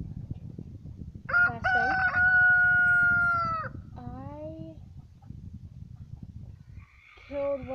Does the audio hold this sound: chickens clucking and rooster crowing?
yes